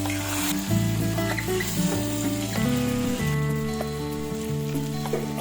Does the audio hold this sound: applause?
no